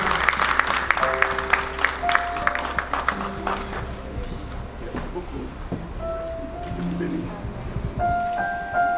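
A church congregation at a wedding blessing breaks into loud, close applause that swells at first, then thins into scattered claps as sustained organ or keyboard notes play beneath and people talk.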